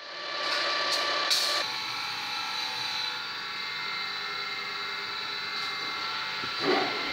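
A valve seat cutter machines the seats of a Chery Amulet cylinder head, giving a steady high whirring and scraping tone that holds for several seconds after a few short bursts at the start.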